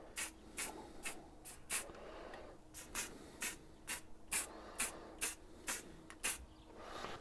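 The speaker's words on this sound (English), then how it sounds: "I want to give this spray at a distance with a bit of white paint" White spray paint hisses onto an oak bowl in about a dozen short, sharp bursts from a distance, each spurt clear and evenly spaced with brief pauses between.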